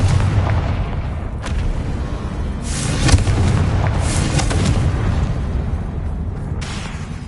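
The Confringo fire spell goes off in a Harry Potter video game, set in an old, disused chamber at the top of a staircase: several booming blasts land over a steady rumbling backdrop, with the strongest burst near the middle.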